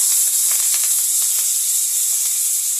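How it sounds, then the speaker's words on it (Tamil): Mustard seeds and urad dal spluttering in hot oil as a tempering for kuthiraivali millet ven pongal: a steady, close hiss dotted with quick sharp crackles and pops, with no voices. "கடுகு உளுந்து பொரியட்டும்."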